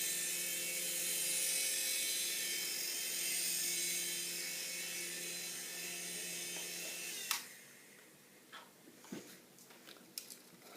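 An X 20 toy RC helicopter's small motor whines steadily at close range, then cuts off about two-thirds through. A few faint clicks and handling knocks follow in the quiet.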